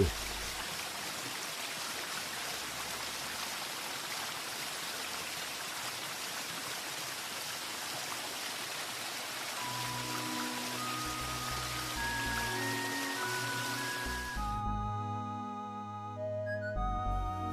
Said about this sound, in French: la quatrième et dernière passerelle qui nous présente sa magnifique cascade.